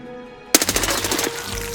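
Rapid automatic gunfire in the Escape From Tarkov shooter game: a quick burst of about a dozen sharp, closely spaced shots, then a lingering echo with no voices.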